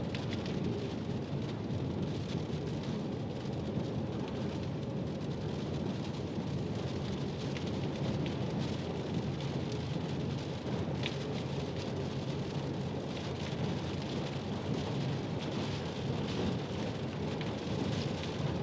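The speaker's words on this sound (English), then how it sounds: "We just got down here, we just got some gusty winds and rain." A Northwest Iowa thunderstorm brings steady, dense rain and gusty wind. The wash is constant and fairly distant for nearly twenty seconds, with no voices.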